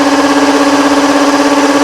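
A steady, loud motorized whir holds a constant pitch throughout as the flywheels of a Nerf Rival Khaos foam blaster spin at full speed, with no voices.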